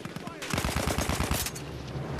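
Rapid bursts of automatic gunfire from the video game Battlefield 1 rattle in quick succession, a dense clatter of shots with a player's voice briefly audible alongside.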